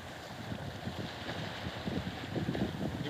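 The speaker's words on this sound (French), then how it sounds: "Il y a beaucoup de petits bateaux en moteur." Small motorboats passing near a harbour on a calm afternoon, a faint low engine drone under steady wind and gentle water noise, with no voices.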